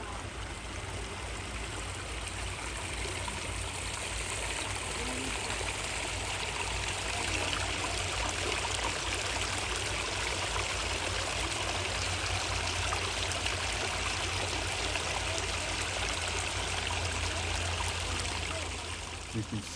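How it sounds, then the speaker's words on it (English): Small artificial stream running through a butterfly garden, a steady close babble and trickle of water that continues unbroken and evenly loud throughout. "the start, the headwaters of the little river that they've created"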